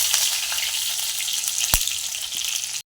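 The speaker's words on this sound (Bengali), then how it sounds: "দেখো আমার পেঁয়াজটা ভাজি হয়ে গেছে" Chopped onion frying in oil in a pan while a fish, potato and eggplant curry is being made: an intense, unbroken close sizzle with one sharp knock midway, no talking.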